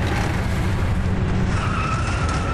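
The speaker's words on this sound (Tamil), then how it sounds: "இரு, இது ட்ரக் சத்தமாச்சே" A truck passes with a loud, continuous rumbling engine and road roar, steady throughout with a faint higher whine near the end.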